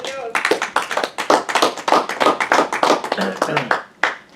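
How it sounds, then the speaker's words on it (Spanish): A church congregation breaks into applause for God during a sermon, a dense burst of clapping lasting several seconds with a few voices faintly underneath, fading out at the end. "Denle un aplauso a Dios"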